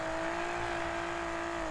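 A Nissan GTR R32 with a drift tune revving high in a racing video game, giving a loud, steady engine drone that holds without pause for the whole short moment.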